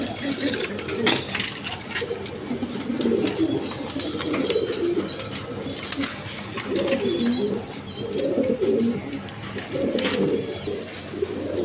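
Pigeons of a Gopalganj breed cooing at a bird market in repeated low, throaty bursts, close and moderately loud, with a voice talking faintly in the background.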